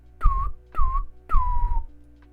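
Three breathy, wavering whistle attempts from someone who can't properly whistle, each under a second long, close to the microphone and thick with air noise between the thin tones.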